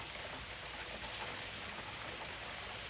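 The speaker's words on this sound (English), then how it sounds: "It is raining." Rain falls steadily in a soft, even hiss of drops, faint and distant, with no voices.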